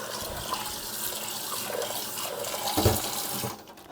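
Tap water running steadily into a sink while a 60-plus-year-old vintage cast iron pan is rinsed, a close continuous splashing rush that thins briefly near the end.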